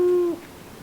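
A single owl hoot sounds from the trees of a forest, a clear steady low tone held for about a third of a second before fading into quiet woodland air.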